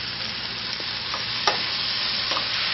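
Ground burger and vegetables sizzle steadily in a frying pan as a utensil stirs them, with soft scrapes and one sharper knock, close and continuous, no talking.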